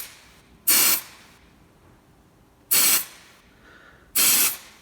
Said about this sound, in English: So I'm going to spray this with some freezer spray